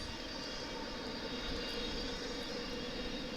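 Jet airliner landing at DFW airport after a long Pacific crossing, its engines producing a steady, loud broadband roar with low rumble that holds constant throughout, no voices.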